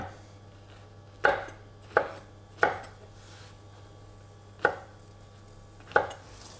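A knife roughly chopping mushrooms on a board, five sharp close thuds spaced unevenly about a second apart over a quiet background hum, with no talking.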